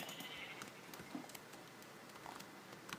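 Sheep in the Minecraft video game bleat in a farm area, several short faint bleats scattered over a steady background, with no talking.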